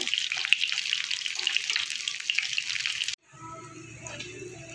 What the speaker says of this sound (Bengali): আস্তে আস্তে বড়াটা ভাজবেন অনেক পুড়ে যাবে